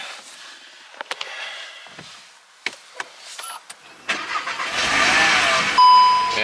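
A VW T-Roc R cranks and its engine catches, rising into a loud, steady medium-pitched run after a few seconds of quieter clicks and knocks, with a short electronic beep near the end.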